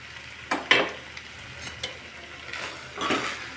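Cucumber pieces are stirred into a sizzling prawn curry in a pan, with a few distinct scraping strokes of a spoon against the pan over a steady background sizzle.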